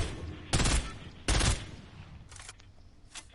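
Bursts of gunfire in the Western video game Red Dead Redemption: two loud, close volleys of rapid shots, followed by a few fainter, more distant reports.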